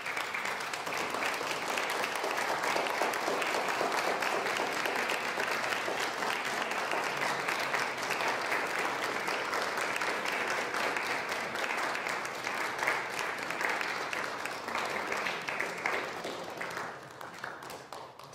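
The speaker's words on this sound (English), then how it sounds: "can you turn to face each other and applaud for the person who you represented" An audience at a Juneteenth gathering applauds one another in sustained, dense clapping that holds steady for a long stretch before easing off near the end.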